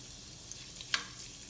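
Olive oil and butter sizzling in a pot, a quiet steady crackling fry with one brief sharper pop, and no voices over it.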